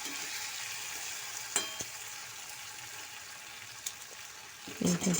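A pan of vegetables frying with tomato and salt sizzles steadily while a utensil stirs and scrapes. There are a couple of sharp knocks early on and a burst of louder stirring at the end.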